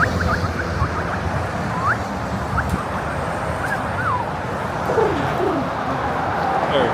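Pigeons or doves coo softly and intermittently, a few short rising and falling calls half-buried under a constant roar of background noise.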